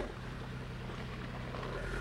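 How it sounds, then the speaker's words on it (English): A car engine running submerged in the salt water of the Sea of Cortez, a steady muffled low rumble with sloshing water, heard through an underwater camera. "This engine is running in the Sea of Cortez with the salt water."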